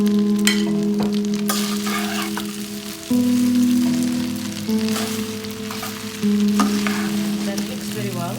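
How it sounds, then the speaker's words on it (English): Chicken, mushroom, carrot and green beans sizzle and fry over high flame in a pan for chow mein, with steady crackling and occasional stirring scrapes, close and continuous. "after 2 to 3 minutes frying, and mushroom, carrot, green beans and chicken."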